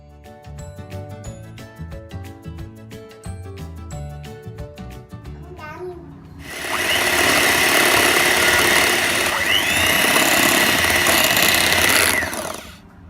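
Whipping cream with vanilla essence and sugar beaten to stiff peaks with an electric mixer, a loud steady motor whir that starts after a stretch of background music and runs for about six seconds.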